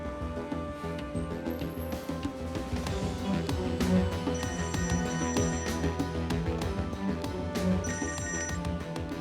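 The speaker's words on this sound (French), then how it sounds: "Allez, réponds au téléphone." A telephone bell rings repeatedly in steady bursts over a busy background of clatter and faint music.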